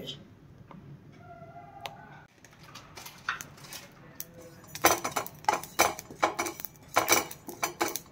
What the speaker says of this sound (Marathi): ते जिरे भाजून घ्यायचे